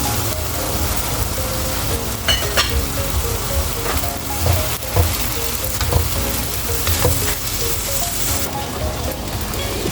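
Rice vermicelli and vegetables stir-fried in a pan, dressed with oyster sauce: a steady loud sizzle with scraping stirs and light clatter throughout, up close and with no voices.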